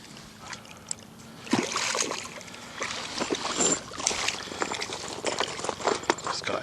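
A small caught catfish thrashes and splashes in the water beside a boat, irregular wet slaps and sprays that start quietly and then grow louder and busier, close by.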